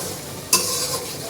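A short stirring scrape in a frying pan of sizzling curry made with ridge gourd and potatoes fried in turmeric, one sharp spoon stroke over a steady background sizzle.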